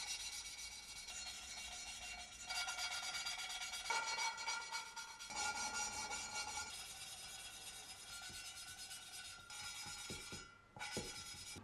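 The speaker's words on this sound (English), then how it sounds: "Lapping the valves was the last thing that we needed to do" Valves are being lapped into a Saab 900 cylinder head, giving a quiet, continuous gritty rubbing and rasping close up, in uneven strokes with brief pauses and no talk.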